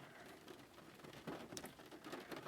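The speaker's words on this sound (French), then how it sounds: "il pleut énormément et je filme dans la voiture, donc désolé si vous entendez les bruits de fond" Heavy rain drums on the roof and windows of a car, heard from inside the cabin as a faint, continuous patter with slightly louder bursts, no voices.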